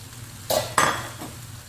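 Eggs dropped into a pan of frying vegetable rice: two sharp sizzling bursts followed by quieter scraping and stirring, close and alone without talk.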